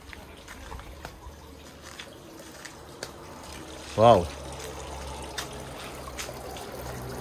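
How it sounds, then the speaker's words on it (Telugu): A small water fountain at a Hawaii guesthouse trickles softly and steadily in the background, with a single short exclamation from a voice partway through. "ఒక మంచి చిన్న వాటర్ ఫౌంటైన్ కూడా ఉంది"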